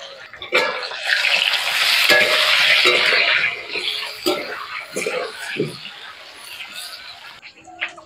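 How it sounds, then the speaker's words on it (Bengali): Potatoes frying in oil in a pan, a loud steady sizzle with scraping stirs and utensil clinks against the pan, a voice talking over parts of it. "আলুগুলো মাছের মতো লাল লাল করে ভেজে নেব।"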